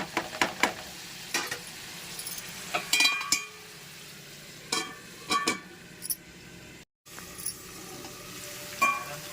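Broad beans and tomato curry frying in a pan, a soft sizzle broken by bursts of spatula scraping and clinks, with one brief dropout near the end.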